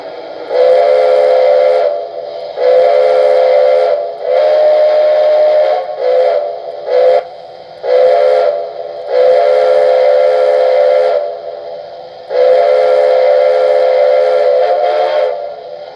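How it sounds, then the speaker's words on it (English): A loud, close steam whistle from a Lionel Pennsylvania 4-6-0 Camelback model train blows repeatedly in long and short blasts with brief gaps, a chord-like tone typical of a locomotive. "So first up, we have the whistle/horn."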